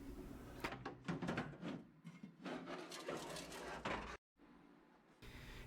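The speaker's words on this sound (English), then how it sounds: "carefully lift the table out of the system and put it aside" Metal table being lifted out of a Universal Laser Systems desktop laser engraver, giving a run of close scraping, rubbing and knocking sounds with a brief silent gap near the end.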